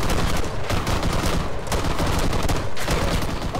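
Dense, continuous gunfire in the military shooter game Arma 3, with loud overlapping shots and bursts blending into a sustained barrage.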